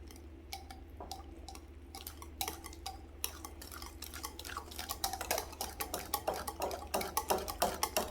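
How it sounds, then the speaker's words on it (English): A whisk works a powdered sugar mixture in a bowl, its quiet rapid clicks and taps against the sides building in pace and loudness over a low steady hum. "Keep whisking until a smooth textured mixture is obtained."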